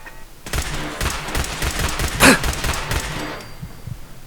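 Rapid bursts of laser turret fire from Fallout 4 in an Institute facility, a fast rattling volley lasting about three seconds with one sharper crack midway, loud and close, no talking.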